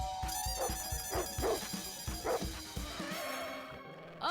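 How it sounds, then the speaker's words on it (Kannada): A dog barks in a quick run of repeated yips and woofs, loud and close, mixed with background music from a comedy show. "ಅವ್ರು ನಮ್ ನಾಯಿಗಿಂತ ದೊಡ್ಡ ನಾಯಿ ತಂದಿದ್ದಾರೆ."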